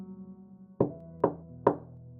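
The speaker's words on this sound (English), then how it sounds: "Knuckles rapped against the flimsy wood, each sound reverberating through my chest." Three sharp knuckle knocks on a flimsy wooden door, evenly spaced about half a second apart, close and fairly loud over a low steady hum, each rap ringing briefly.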